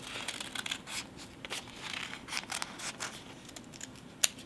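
Scissors cut out fusible paper fused to fabric for a quilted pillow, a run of quiet close snips and papery crinkles in an uneven rhythm, with one sharper snip at the end.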